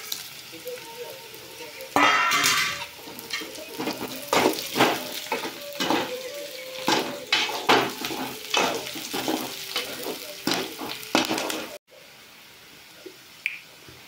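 Onions and chili fry in a pan in an outdoor village kitchen, a steady sizzle cut by frequent sharp scrapes and taps of a spatula, which stop near the end and leave quieter background sound.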